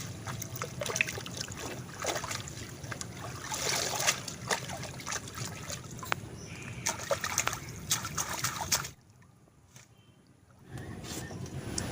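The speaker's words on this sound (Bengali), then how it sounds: "মা এবারে শাকগুলো ধুয়ে নেবে" Freshly picked marish greens, muddy from the garden, being washed by hand in water, with close sloshing, trickling and splashing that drops away briefly before resuming, with no talking.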